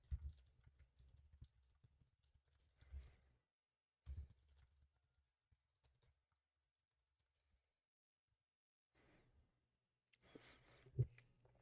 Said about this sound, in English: I'm typing Matthias in Discord